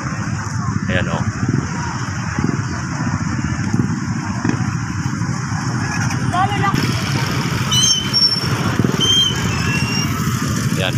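Heavy traffic jam in Ragay town, with cars and motorcycles idling and revving in a steady, loud rumble throughout, along with scattered honks and background noise.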